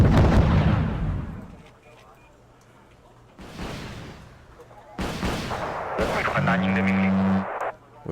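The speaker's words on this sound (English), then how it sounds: "Firing 2 missiles at a time." Missile launches in the real-time strategy game Wargame: Red Dragon, fired two at a time during a naval battle, heard as loud whooshing blasts with a game tone and speech earlier in the mix.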